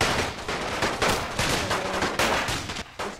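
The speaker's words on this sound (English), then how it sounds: "you can just hear the bullets" Rapid bursts of rifle and machine-gun fire in a Great War mod battle, dense overlapping shots cracking in quick irregular volleys, loud and close with no voices over them.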